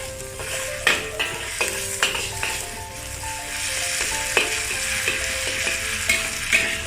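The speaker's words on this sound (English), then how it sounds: "Saute the onion and garlic. Then mix with the hor fan." Hor fan rice noodles stir-fried with onion and garlic in a wok over medium-high heat for beef chow fan, a steady close sizzle punctuated by sharp, irregular clanks of the spatula against the pan.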